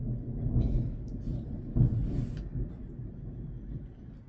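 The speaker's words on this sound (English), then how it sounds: "That sounds like thunder." Thunder rolls as a low, continuous rumble lasting several seconds, with a slightly louder swell partway through before slowly fading, sounding fairly distant and muffled, as if heard from indoors during a lesson.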